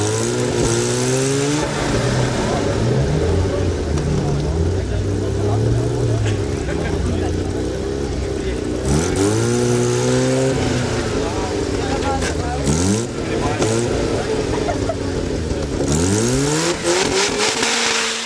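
A 4x4 off-road vehicle at a national 4x4 challenge revs hard on a hill climb attempt, its engine surging in loud, repeated rising bursts that drop back between tries, with voices in the background.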